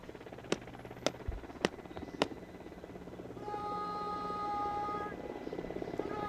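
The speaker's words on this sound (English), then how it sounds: "And that's a Mi-17 V5 helicopter in the airspace with the flag also flying with it." An Mi-17 V5 helicopter passes over an airfield during an Indian Air Force Day parade. Sharp clicks come first, then a steady rotor drone with a rising whine swells to a loud, sustained pass overhead.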